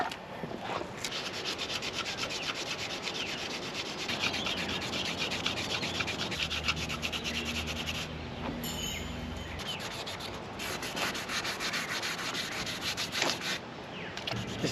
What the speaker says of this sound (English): I'll go around and scuff the edges, get rid of that overspray